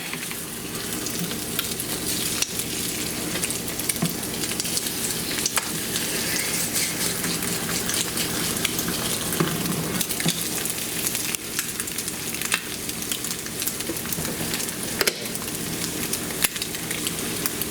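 Eggs frying in a pan, a steady loud crackling sizzle that carries on without a break, close up, with no talking.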